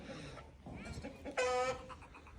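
An Aseel rooster lets out a short, harsh clucking call close by, with someone speaking around it.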